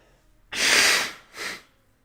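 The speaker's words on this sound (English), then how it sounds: "blowing my nose a ton during this stream." A congested person blows their nose, one long loud honking blow followed by a shorter second blow, close to the microphone with no talking.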